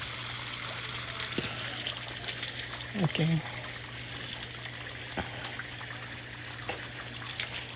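Water from a garden hose runs steadily into potted plants in a spring garden, a continuous gushing spray with brief louder splashes, while a person speaks now and then over it.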